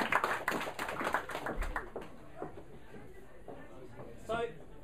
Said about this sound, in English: Round of applause for my fabulous Higgs boson creators.